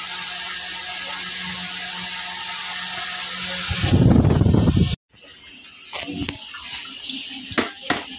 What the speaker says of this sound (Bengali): কাটা তো শেষই, এখন ধুয়ে নিব মাছটি।